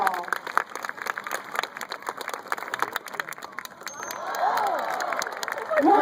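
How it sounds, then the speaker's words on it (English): An aquarium audience at a sea lion show cheers and claps, a busy crowd roar with scattered shouts building toward the end, voices mixed in. "I think we're going to have to make a whole lot of noise to cheer our star on"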